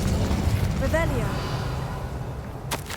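A Revelio spell is cast in the video game Hogwarts Legacy: a shimmering, swooping magical tone rises over a low rumbling game backdrop, followed near the end by a short bright burst.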